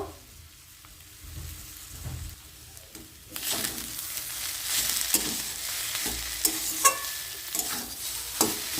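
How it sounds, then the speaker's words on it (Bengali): Spiced potato filling for spinach puris frying in a pan, at first a quiet soft sizzle, then louder after about three seconds with steady crackling hiss and sharp spatula scrapes and clinks, no voices. "পুরটা এবার আমি হালকা করে ভেজে নেব"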